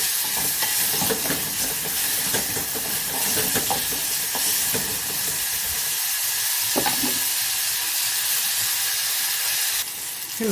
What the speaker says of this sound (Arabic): نزلت عليهم بمعلقتين من الزيت بتاع البصل ده بس تشويحة كده